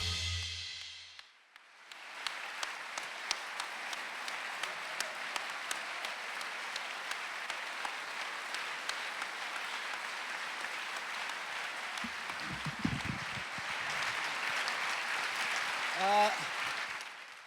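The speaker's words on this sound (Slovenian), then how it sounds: "Dlje kot boste ploskali," Sustained applause from a large audience at an awards ceremony, steady and full for most of the stretch, with a few voices emerging near the end.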